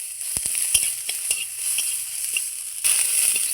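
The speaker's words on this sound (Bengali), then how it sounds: "তারপরে ভেজে নিচ্ছি দেখুন পেঁয়াজ, একটা পেঁয়াজ কেটে নিয়েছি" Sliced onion fries in a pan after dried chillies, giving a steady close sizzle with faint crackles and a few soft knocks of stirring.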